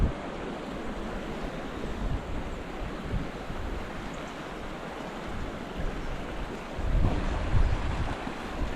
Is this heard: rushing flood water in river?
yes